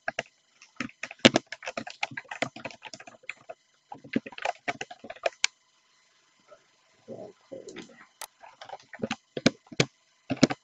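Someone types a URL on a computer keyboard, producing irregular clusters of light key clicks separated by short pauses, with a brief stretch of quiet mouse or desk noise partway through.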